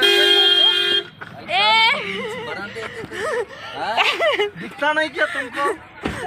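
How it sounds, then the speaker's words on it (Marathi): A vehicle horn blares in one long steady honk near Mahabaleshwar, loud and close, then cuts off as people begin talking animatedly for the rest of the moment. "जवळ आल्यावर कोणी हॉर्न वाजत"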